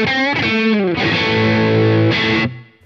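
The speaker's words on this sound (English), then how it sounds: "We're on third position now." Schecter Nick Johnston electric guitar set to the third pickup selector position, a few slightly distorted chords struck and sustained, with a short pause between strums before fading out.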